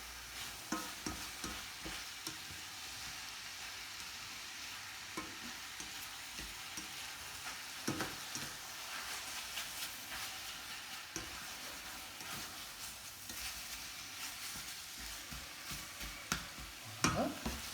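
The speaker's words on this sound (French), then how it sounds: "Voyez maintenant, les oignons sont devenus transparents. Le poisson commence à cuire un peu." Onions and fish cook gently in a pan for fish stock: a soft, low sizzle runs throughout, broken by frequent clinks and scrapes of stirring.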